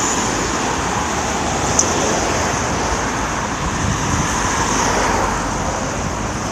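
Steady street traffic rumbles with a bus pulling away among passing cars, a broad, even roar that holds at a constant level throughout.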